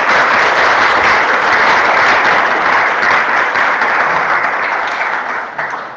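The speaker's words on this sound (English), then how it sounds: "you can clap" Loud, dense audience applause filling the room after a conference talk on composable caching in Swift, sustained evenly for several seconds before starting to thin at the end.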